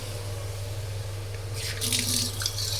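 A kitchen sink tap is turned on partway through, and water splashes close and bright over a low, steady background hum, fairly quiet overall.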